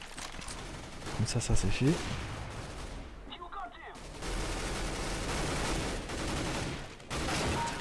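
Counter-Strike: Global Offensive gameplay with a few sharp game gunshots and short bursts, brief and mid-level, under someone speaking French throughout.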